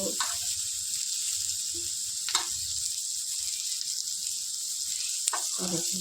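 Semolina roasting in ghee in a pan, a steady close hiss and sizzle throughout with a few scraping stirs of a spoon against the pan.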